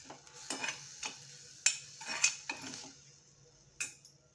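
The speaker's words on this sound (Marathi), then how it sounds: "आता व्यवस्थित आपण ढवळून घेऊया." A spoon stirs a sprouted fenugreek vegetable dish in a pan, making close, irregular metallic scrapes and clinks in short bursts with quiet gaps between.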